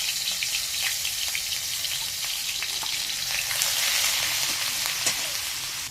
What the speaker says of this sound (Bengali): এবার এখানে আমি একটু পেঁয়াজ বাটা এক চামচের মতো পেঁয়াজ বাটা দিয়ে দিই